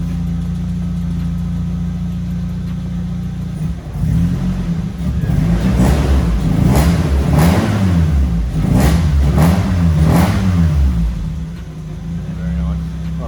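A Toyota 4AGE engine in an AE86 Sprinter, idling steadily and then revved several times in quick succession with rising and falling engine note, loud and close, before settling back toward idle.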